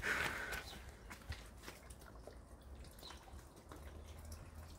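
Water is poured from a watering can onto garden flowers on a hot afternoon, giving soft, faint splashing and dripping throughout, with a few light taps and footsteps and no talk.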